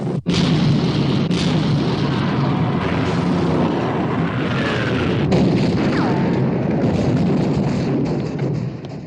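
Warship guns roar in a naval battle scene from the 1960 film Sink the Bismarck, a loud continuous barrage of booming blasts and rumbling explosions with sharp cracks layered over dense battle noise.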